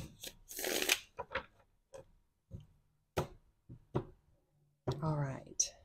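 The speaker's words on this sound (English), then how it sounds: "One last shuffle over here for our clarifiers." Tarot cards are shuffled in short bursts of riffling and soft slapping, separated by pauses and light clicks, close and quiet, and a voice speaks briefly near the end.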